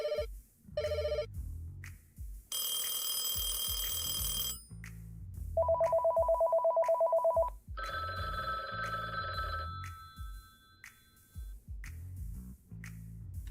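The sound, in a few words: telephone ringing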